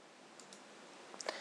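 A computer mouse clicks on a link during a website tutorial: a few faint, crisp clicks near the end, with one slightly stronger click, over a quiet room hiss.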